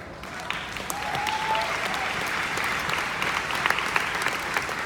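Sustained applause from a convention audience, steady clapping throughout with scattered louder claps and faint crowd murmur.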